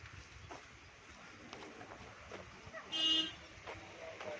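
A brief vehicle horn toots once over a low outdoor rumble, with faint traffic and scattered background noise around it.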